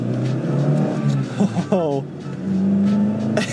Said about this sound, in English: Let's see how the acceleration is.